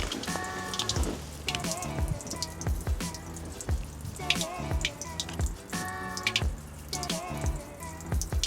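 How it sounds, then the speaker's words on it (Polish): Water drains from a camper's boiler, gushing and splashing in bursts, with gurgling drips between surges, close by and steady for several seconds; no one speaks. "tam po prostu ta woda z boilera sobie wylatuje"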